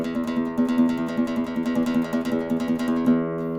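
A guitar strummed with the thumb in a steady down-up rhythm, soft-edged strokes ringing together, close and fairly loud, with no talking.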